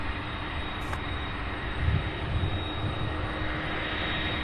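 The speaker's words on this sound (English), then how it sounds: "And then another MD-11 from back there now taxiing." McDonnell Douglas MD-11 cargo jet taxiing at Louisville's SDF airport, a steady broad engine roar with low rumbling swells, heard from a distance and fairly constant, without talk.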